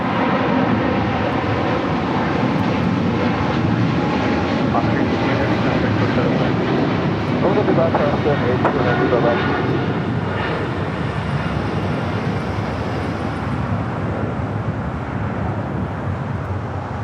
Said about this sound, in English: That FedEx 767-300 freighter touching down on 25 left